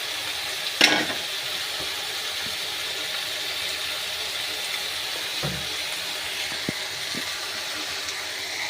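Coriander and mint leaves fry in hot oil with a steady, close sizzle that runs throughout. One brief louder crackle bursts near the start, and a few small pops and stirring knocks come later.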